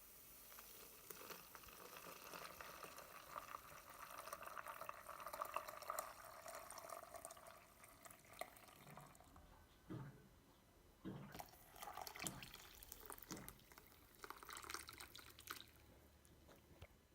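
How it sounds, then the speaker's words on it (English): Ice-cold water poured slowly over coffee grounds in a Bodum pot, a soft, faint trickle and splash with a few louder drips and clinks near the end. "Then you add ice cold water,"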